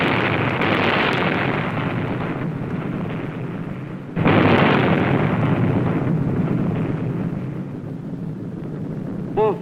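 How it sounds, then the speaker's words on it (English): Nuclear bomb blasts at sea, detonating well astern of a naval formation, as two long, loud roaring rumbles, the second erupting abruptly at about four seconds and rolling on with sustained, dense low thunder. "Both bombs produced nuclear explosions well astern of the formation"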